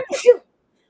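A single short sneeze from a person in a studio conversation, quick and close, lasting under half a second before silence.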